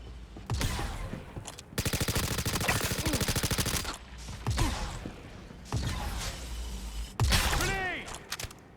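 Shotgun blasts and other gunfire ring out in Star Citizen in several loud bursts, including a long rapid string of shots in the middle, with whooshes and clanks between them.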